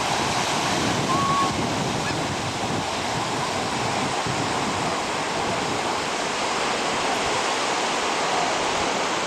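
Ocean surf breaks steadily on a beach near an old fort, a continuous broadband wash of waves rolling in without pause, close and fairly loud, with no voices.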